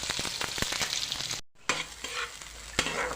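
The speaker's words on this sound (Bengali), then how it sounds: "ভোলা মাছ ভেজে নিচ্ছি" Bhola fish fries in a pan with a steady broadband sizzle and scattered crackles and pops, briefly cut to near silence midway before the frying resumes, close and moderately loud with no talking.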